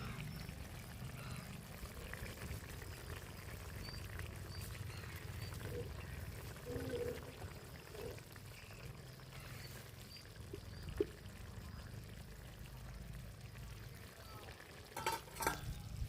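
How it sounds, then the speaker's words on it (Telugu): A pot of chicken curry simmers and bubbles, giving a quiet, steady bubbling hiss close by, with a few soft clinks and stirring sounds toward the end. "బాగా మరుగుతుంది చూడండి."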